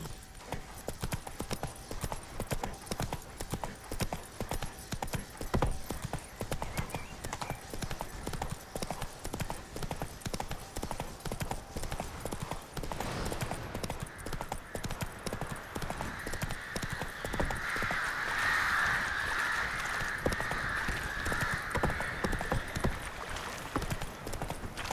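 Horse hooves clip-clop in a steady walking rhythm throughout a scene in The Witcher 3: Wild Hunt, close and continuous over quiet game ambience, with a brief whinny-like swell near the end.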